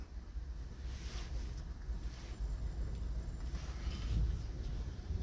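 Steady wind roars and buffets the microphone with low rumbling gusts on a hot Pacific Northwest day, swelling slightly toward the end, with no voices.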